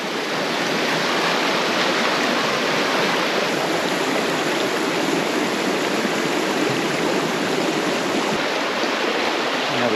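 Clear creek water flowing steadily over stones on a forest track in Tararua Forest Park, a dense, even rush close by that holds constant the whole time with no voices.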